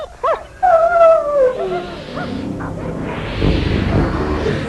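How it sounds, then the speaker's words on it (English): Dogs whining and yelping: high wavering whines and yelps up close, loud at first, fading into a rougher whimpering noise toward the end, with no talk. "Now they lay whining and yelping just where Shag had thrown them."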